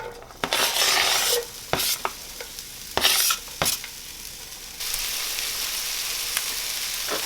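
Onions hit hot oil in a pan for a tofu scramble, bringing a bright, steady sizzle broken by scraping stirs and utensil clacks against the pan, followed by a continuous, even frying hiss.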